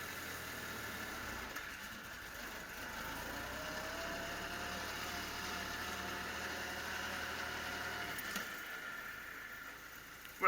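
A Willys jeep engine idling at a steady, even rumble with a faint mechanical whine running through, fairly quiet and alone, ending in a short sharp knock.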